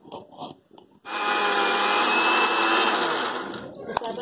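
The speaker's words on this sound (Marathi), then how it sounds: "असं आपण वाटून घेतलंय।" A mixer grinder starts with a sudden loud whir while grinding green chillies and coconut, holding a steady high whine for about three seconds before winding down; brief talk comes first.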